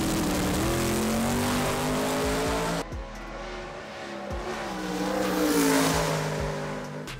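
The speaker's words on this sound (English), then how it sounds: "Stefan Rossi went for a wild ride in his Chevy Nova" Chevy Nova drag-racing street car roaring loud and close at full throttle, engine pitch climbing through gears, a sharp break around three seconds, then rough revving and tire noise as the car twitches near concrete barriers.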